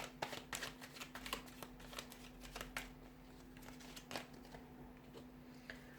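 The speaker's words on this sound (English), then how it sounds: "So I'm going to give the cards a shuffle and see what the cards want to share with you here." Tarot cards being shuffled by hand, a quick run of crisp papery riffles and flicks close up, continuous over several seconds with a faint electrical hum beneath.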